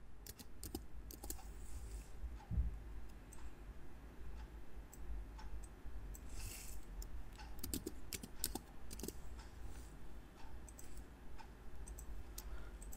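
Fingers type on a computer keyboard in a quiet room, quick irregular clicks and taps scattered across the whole stretch, some bursts denser than others.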